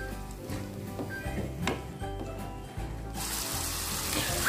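Water is poured into a pan of cooking mackerel tuna, a continuous close splashing and bubbling that swells into a louder hiss toward the end over a low background hum.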